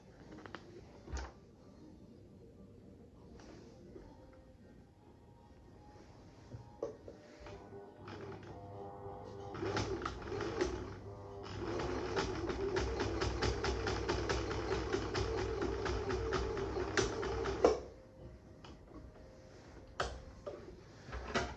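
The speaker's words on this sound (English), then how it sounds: "what I'm going to do is just top stitch over these two seams at either side." Husqvarna 6440 sewing machine top stitching through four layers of fabric, a steady mechanical whir of rapid needle strokes running for several seconds, close and moderately loud, with quieter handling clicks before and after.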